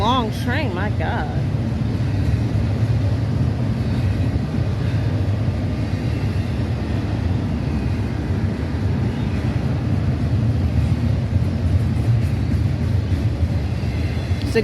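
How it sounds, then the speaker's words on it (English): A long freight train rolls steadily past close by, a dense continuous low rumble and rattle of wagons with a brief horn-like tone at the start, and a person talks over it. "This is a long train, my God."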